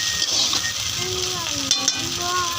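Potatoes are stirred in a hot frying pan, a continuous loud sizzle with scraping stirs, while faint voices and tonal sounds run underneath.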